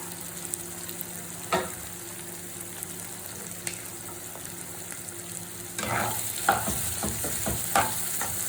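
Prawns frying in a pan, a steady soft sizzle that swells louder partway through with scraping stirs and spatters.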